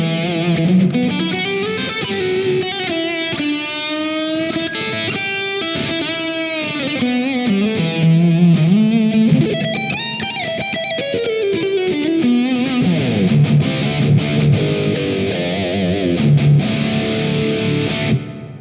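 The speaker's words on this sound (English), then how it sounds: "You can also engage, for example, the reverb. You can create something like solo style guitar." A heavily distorted electric guitar played through a Two Notes OPUS amp and cab simulator plays a lead solo with sustained, bending notes and a wash of reverb, loud and continuous throughout.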